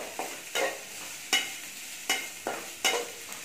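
Strips of chapati sautéed in oil for hotel-style chapati noodles: a spatula scrapes the pan in repeated strokes about every half to three-quarters of a second over a low, continuous sizzle.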